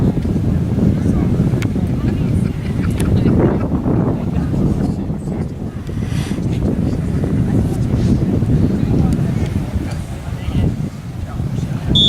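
Steady wind buffets the microphone at an outdoor beach volleyball court, a broad continuous rumble that swells and eases for the whole stretch, loud and close with no pause.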